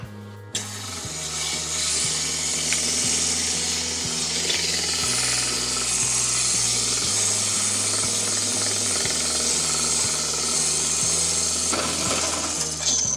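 A steady mechanical whir with a low rhythmic grinding hum runs throughout, as a flat lap grinder spins while a chalcedony stone is pressed and moved across it.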